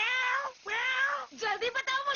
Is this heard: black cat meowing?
yes